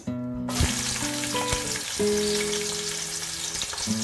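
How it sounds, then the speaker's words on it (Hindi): A medium onion, sliced, sizzles in half a cup of hot oil in a pan, a dense, continuous frying hiss heard close up, with a few sharp spatters near the start. "एक पैन में मैंने हाफ कप ऑयल डाला है, जिसे मैंने गरम किया है। शामिल कर दूंगी एक दरमियाना प्याज स्लाइस।"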